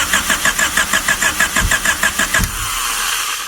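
A junkyard Honda Civic cranks with a fast, even chug of the starter for about two seconds, then catches and settles into a rough running drone, loud and close with no talk.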